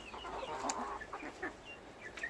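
Laying hens clucking softly nearby in short, scattered calls over a quiet outdoor smallholding background.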